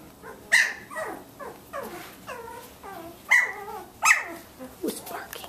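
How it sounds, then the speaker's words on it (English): Samoyed puppies about 17 days old bark and yip in a whelping room, a run of short, high, close barks and whimpers coming in bursts, with a person speaking over them. "Who's barking over here?"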